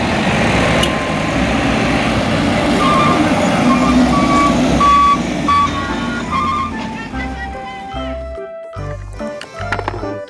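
Toy sand hauling truck giving off repeated reversing beeps, steady and fairly loud, over busy background noise, with clearer tonal beeps toward the end.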